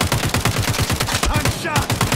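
Rapid automatic gunfire in the tactical shooter game Caliber: a loud, unbroken stream of sharp shots at a fast, steady rhythm, with no talk over it.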